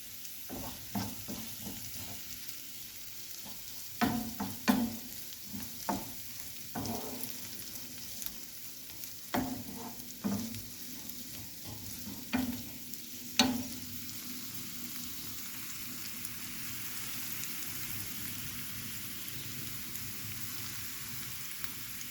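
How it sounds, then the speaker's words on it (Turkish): Soft, steady frying sizzle of eggs with peppers, with occasional clinks and scrapes of stirring, fairly quiet and continuous, no talking. "Şöyle biberli yumurta kızartacağım."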